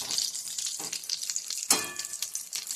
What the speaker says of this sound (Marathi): छान असं सोनेरी रंगावर झाल्यावर आपण हा तळून घेऊया